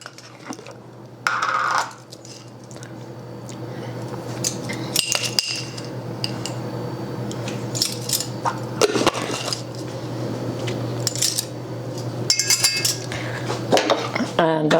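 A spoon stirring salt into foamy proofed yeast mixture in a bowl, repeated metallic clinks and scrapes at an irregular rhythm, close and fairly loud.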